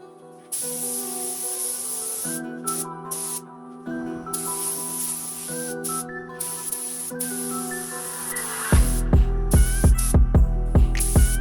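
Water-based base coat sprayed from a paint gun inside a shaved Honda Civic engine bay on a cold night, heard as a steady close hiss with brief pauses, then a run of louder rhythmic bursts toward the end.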